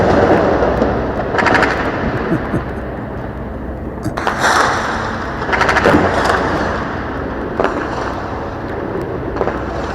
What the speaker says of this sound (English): Should I lower the gun shooting?